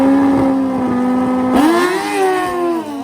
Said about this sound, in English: listen to that H2 make power